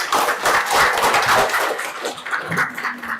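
An audience applauding a CEO being welcomed to speak at an umrah preparation event, a dense burst of clapping from many hands that fades toward the end as a voice begins.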